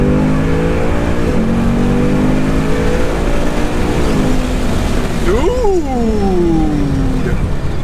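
A Ford Mustang GT accelerating hard in first gear, its loud engine note climbing steadily, then dropping as a paddle-shifted gear change comes and it pulls up again, close and dominant throughout.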